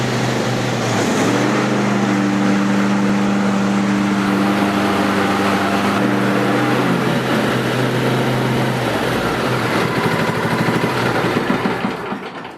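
A ride-on lawn tractor engine cranks and catches, then runs at a loud, steady idle with its mower blades disengaged. The rough mechanical drone stays close and continuous, with no talking.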